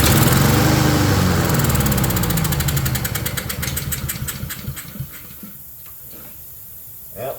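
A Honda self-propelled lawn mower engine fires and runs loudly up close, then sputters and winds down to a stop.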